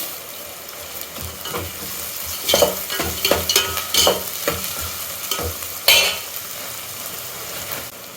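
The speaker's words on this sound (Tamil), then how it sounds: "வதங்கட்டும் இதுக்கு தேவையான அளவு கருவேப்பிலை ஒரு கொத்து சேர்த்துக்கிறேன்" Curry leaves sautéing in a pan for vada curry, with loud crackling sizzle and repeated stirring scrapes in bursts, sharpest when the bunch of leaves hits the hot pan.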